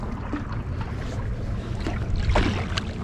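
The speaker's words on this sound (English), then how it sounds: "Backwards paddling because I'm a superhero." A pack raft paddled backwards on the Colorado River gives a continuous watery swish and splashing under steady wind noise, with a few faint paddle dips.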